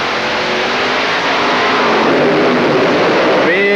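The pulling tractor Sledgehammer, fitted with a new Chrysler Hemi engine, roars loud and continuous at the 1997 European Tractor Pulling event in Ahoy Rotterdam. The engine revs harder as the run goes on, with an announcer's voice partly under the noise.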